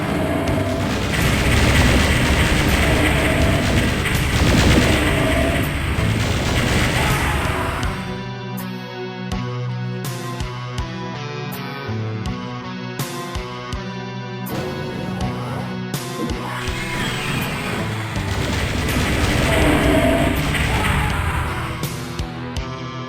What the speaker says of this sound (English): it's the rocket launcher